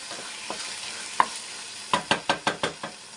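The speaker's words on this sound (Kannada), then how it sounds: "ಇವಾಗ ನಾವು ಅದಕ್ಕೆ ಬಟಾಣಿ ಹಾಕ್ಕೋಬೇಕು. ಬಟಾಣಿ ಹಾಕ್ಕೊಂಡಿದ್ದೀನಿ. ಇದೊಂದು ಸ್ವಲ್ಪ ಫ್ರೈ ಆಗಬೇಕು." Green peas frying in a paneer gravy, a quiet sizzle broken by a quick run of rhythmic stirring scrapes near the end, with no speech.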